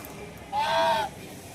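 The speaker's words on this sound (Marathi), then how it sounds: "इकडे बदकसुद्धा आहेत हे बघा" A single short nasal honk of a duck sounds once against a quiet background.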